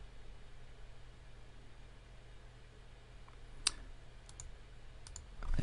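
A computer mouse clicks during offline software activation: one sharp, close click stands out, followed by a couple of fainter ticks over a quiet, steady room hum.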